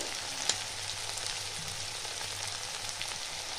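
Spices with chilli powder, turmeric and salt sauté in a pan for a bottle gourd dish, giving a steady close sizzle with a small clink near the start.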